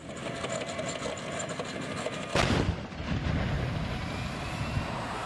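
An M1 Abrams tank's main cannon fires once in a single sharp, loud blast that rolls out into a rumbling tail over steady engine and ambient noise.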